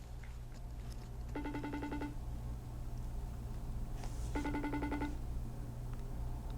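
A FaceTime call rings on a phone, two bursts of the bright repeating tonal ringtone a few seconds apart over a steady low hum, with no speech.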